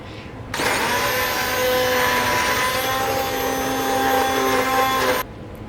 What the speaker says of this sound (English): I'm going to take my immersion blender and I'm going to mush it up